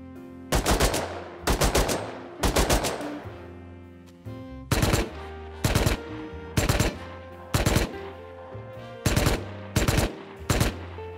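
Video game guns fire in separate bursts, each a tight cluster of sharp, loud shots followed by a short ringing decay, about a dozen bursts spaced evenly with brief pauses between them.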